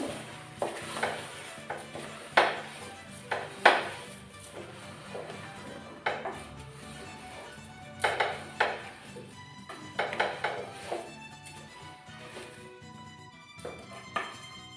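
Uncooked rice being stirred into a pot for vegetable pulao, with a spoon scraping and clinking against the metal in irregular close bursts, no voices.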